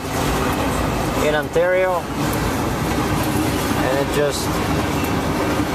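A container train crosses Highway 144 in Ontario, Canada, a loud continuous rumble and rolling rail clatter heard close from a stopped vehicle, with a horn blast partway through, while someone talks over it.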